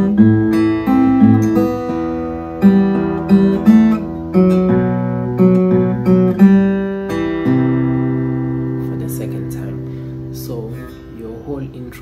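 A fingerstyle acoustic guitar picks an intro, with clear plucked notes and chords in a steady rhythm, close and alone, then a lingering sustained tone.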